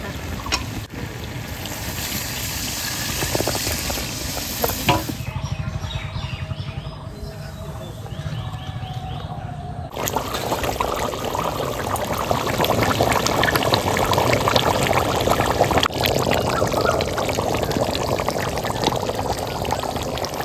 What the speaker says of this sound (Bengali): মাংসটা খুব সুন্দর করে কষিয়ে নিয়েছি এবার জল দিয়ে দেবো